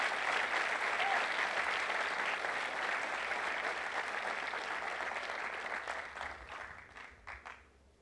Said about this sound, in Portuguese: O aplauso do Senhor está maravilhoso,